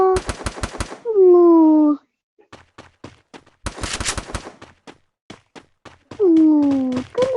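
Rapid bursts of video game gunfire from Free Fire, tight clusters of sharp cracks in two volleys with scattered single shots between, broken by rising tonal game effects.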